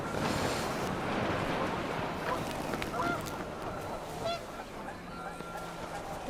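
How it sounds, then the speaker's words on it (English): Panicked geese honking in a video game scene, a flurry of loud overlapping honks over a steady windy, watery backdrop, with the calls thinning out as the birds move off. "panicked geese appeared and quickly went"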